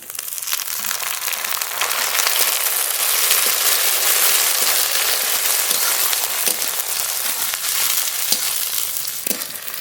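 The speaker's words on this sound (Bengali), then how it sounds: "পেঁয়াজের সঙ্গে লঙ্কা একটু হালকা করে নেড়ে নিয়েছি" Onion and dried red chilli frying together in a pan, a loud dense crackling sizzle with occasional stirring scrapes, continuous with no voices.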